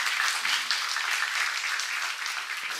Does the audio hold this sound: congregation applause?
yes